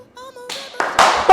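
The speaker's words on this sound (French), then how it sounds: "les applaudissements" A handful of sharp, close hand claps on a film-set making-of, quickly building into a brief burst of clapping after a quieter, voiced lead-in.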